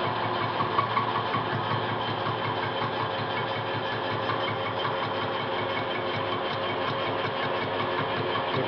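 A metal lathe runs steadily at speed 460, turning a tube, with a constant mechanical hum and rattling drone that stays even and close throughout.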